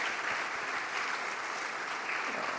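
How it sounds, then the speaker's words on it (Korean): A church congregation at a Christmas thanksgiving service applauding to welcome new members, with dense, continuous clapping from many people, steady and fairly loud throughout. "우리 박수로 환영하도록 하겠습니다."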